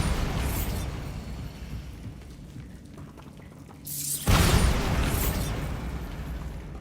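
Bombarda spell blast in Hogwarts Legacy: a sudden loud burst with a rumbling low tail midway, set against a steady bed of ambient game noise and earlier fainter booms.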